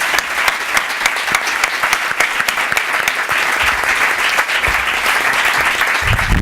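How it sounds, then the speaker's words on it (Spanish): Loud, steady applause from an audience at a round-table panel of a project management conference in La Rioja, dense clapping sustained for the whole stretch without a break. "Pido un aplauso muy fuerte para mis compañeros"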